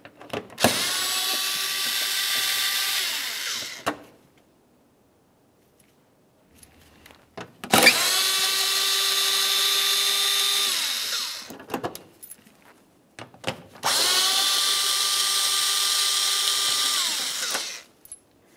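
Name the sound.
power tool removing T30 bolts from Dodge Dakota bumper cover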